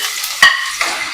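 Chopped ginger dropped into hot oil for a Kerala-style fish curry: a close, bright sizzle with one sharp clink of a utensil against the pan, then a softer stirring rustle.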